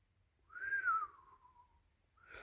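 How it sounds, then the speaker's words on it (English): One shrill whistle rises and then slides downward for about a second, faint and alone against a quiet background, with a short second whistle starting at the end. "the jester suddenly uttered a shrill whistle"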